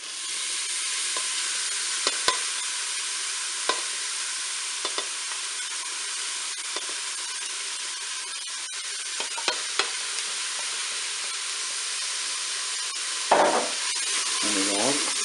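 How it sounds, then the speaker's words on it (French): Onions and minced meat fry in the hot oil of a Cookeo multicooker bowl, making a steady, close sizzle with scattered spoon taps and scrapes and a louder stirring burst near the end. "Et bien mon huile est chaude, je vais faire revenir mes oignons."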